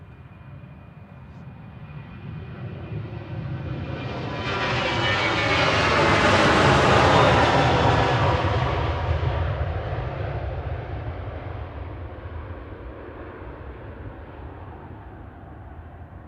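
A TUI Boeing 787-8 Dreamliner takes off and climbs shallowly out of Manchester Airport. Its broad engine roar swells from a distance, peaks loud for several seconds, then fades slowly with no voices over it.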